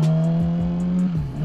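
A motorcycle engine revs up loudly and close as it accelerates to pass a slow car on an Orange County road, with a steady droning pitch and a couple of brief gear-change dips.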